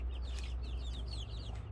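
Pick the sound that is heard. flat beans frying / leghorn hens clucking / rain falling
leghorn hens clucking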